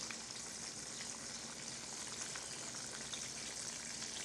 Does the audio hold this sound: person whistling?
no